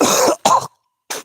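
One person close to the mic after quitting smoking gives a harsh cough, then a shorter cough and a brief throat clear in quick succession, separated by silence.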